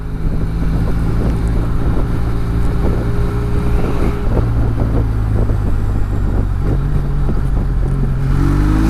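A Benelli Leoncino motorcycle cruises at about 40 kph, its engine a steady low drone beneath heavy rushing wind buffeting the microphone, loud and continuous with no speech.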